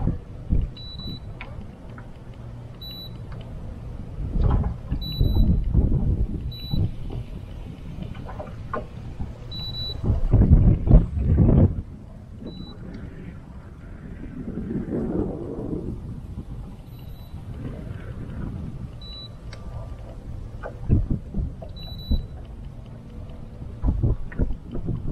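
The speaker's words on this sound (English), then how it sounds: "Ooh, this wind, y'all." Strong wind buffets the microphone outdoors on the water while crappie fishing, with low rushing gusts that swell and ease over a steady roar, plus faint ticking electronic beeps.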